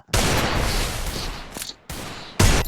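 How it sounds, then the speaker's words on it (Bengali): A Desert Eagle pistol fires a headshot in a video game: a sharp, loud blast with a long noisy tail, then a second shot, then a third close burst, all without speech. "ও ভাই মাথা নষ্ট একটা হেডশট ডেজার্ট ইগলের"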